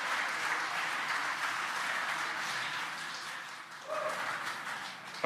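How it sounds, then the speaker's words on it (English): Spectators applaud the Crew 4 landing in a steady wash of distant clapping and cheering heard from behind, with a brief voice near the end. "You can hear the applause behind us."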